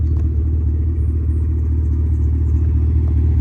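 A 2016–2019 Cadillac CTS-V with a new muffler gives a steady, deep engine and exhaust rumble, loud and close, held at an even idle-like drone.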